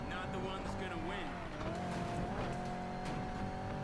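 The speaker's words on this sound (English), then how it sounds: "Better hurry, engines are revving!" Car engines rev and tires squeal during a street race in the video game Need for Speed Payback, with a Chevrolet Camaro. Dense, continuous engine whine and skids sit under game music and effects throughout.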